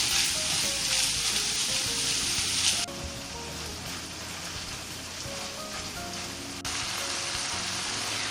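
Pork sausage frying in a pan, a continuous close hiss and crackle of fat that drops and rises in level with cuts, with no voices.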